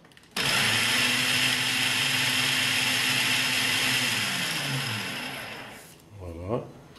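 An electric hand mixer beats gingerbread batter in a bowl, a loud steady whir that runs for about five seconds with slight pitch shifts, then stops, leaving a brief voice at the end.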